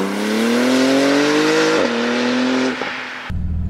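A Porsche 911 GT2 RS engine in a short, loud burst of acceleration, its rising tone climbing steadily for a couple of seconds before easing off and dropping to a low idle.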